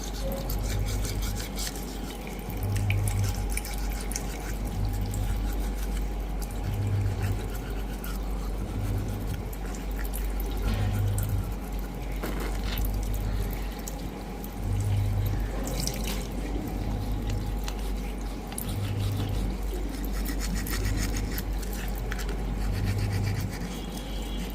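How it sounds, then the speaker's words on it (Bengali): Teeth being brushed at a bathroom sink during a nightly routine, with tap water running steadily throughout and a repeating scrubbing rhythm over a low constant hum; no talking. "প্রতিদিন রাতের ব্রাশ করি।"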